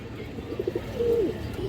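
Close pigeon coos sound among old-line pigeons in a bird collection: a few short throaty pulses followed by one longer drawn coo, over a low murmur of other birds.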